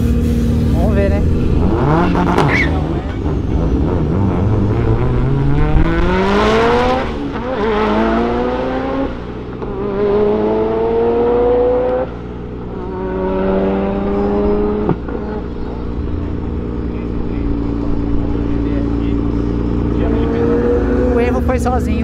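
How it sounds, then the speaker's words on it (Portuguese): A Mitsubishi Lancer Evolution 9 and a Nissan GT-R accelerate hard, with engines rising and falling in repeated loud revving sweeps, while people talk throughout. "Você vai ver um Lancer Evolution 9 e um GTR acelerando."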